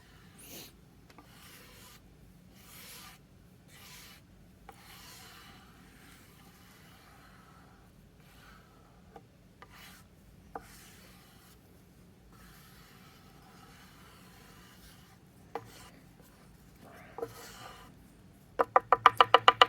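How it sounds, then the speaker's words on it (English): Faint, soft swishing strokes of a buffing pad rubbed over Rubio Monocoat finish on an epoxy, maple and walnut chess board, quiet and close with occasional light clicks, ending in a quick rattling burst. "we'll take a buffing pad and I'll buff it out a little bit to get rid of the excess"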